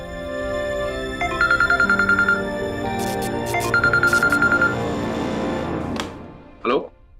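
A phone ringtone rings in two repeated bursts of bright electronic tones at a household scene, with dramatic background music underneath and a short voice near the end.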